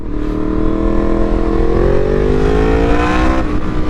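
A Yamaha MT10 motorcycle with a bigger rear sprocket and new chain is heard while riding. The engine drones loud and close, and its pitch climbs smoothly as it accelerates, then dips near the end.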